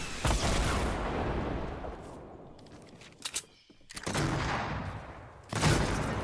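A rocket launched in Fortnite with heavy explosions and booming gunfire-like blasts, loud and close, in bursts separated by short gaps of near silence.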